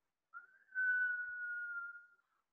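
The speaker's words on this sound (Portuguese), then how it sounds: "Foi só mencionar esse nome e ouviram um assobio" A single sustained whistle drifts up from a canyon, entering softly and then holding steady and clear for about a second and a half before fading out, alone with no other sounds.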